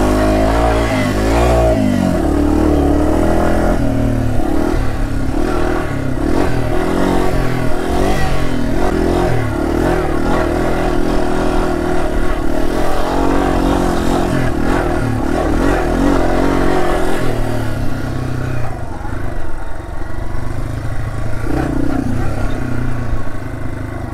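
A Yamaha TW200 motorcycle is ridden with a loud, continuous engine drone and rumble that rises and falls with the throttle. Wind roar runs throughout, and the sound eases slightly toward the end.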